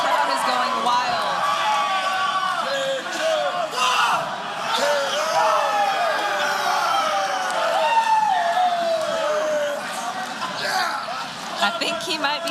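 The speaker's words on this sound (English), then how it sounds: "And this crowd is going wild." Crowd at an MMA fight cheering and screaming wildly, a dense high-pitched roar with whistles and shrill yells that holds throughout.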